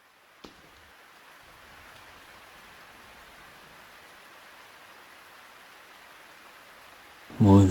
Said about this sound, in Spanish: Pero Creighton, está lloviendo.